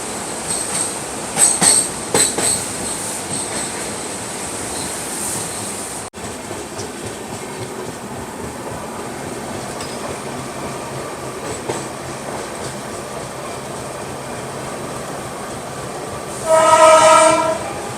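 Howrah-NJP Shatabdi Express with a Vistadome coach pulling into Malda Town station at dusk, a steady loud rumble of wheels and carriages with short horn blasts early on and a sharp wheel squeal near the end.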